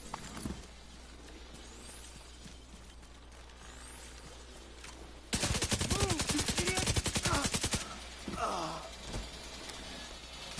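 A light machine gun in The Division 2 fires one sustained, loud rapid burst of a couple of seconds after a quieter stretch of faint background game noise.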